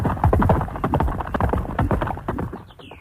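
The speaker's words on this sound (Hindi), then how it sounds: "घोड़े की टाप सुनाई दी।" Horse hooves clip-clop in a Hindi cartoon, a quick rhythmic trot of sharp close knocks that fade slightly toward the end.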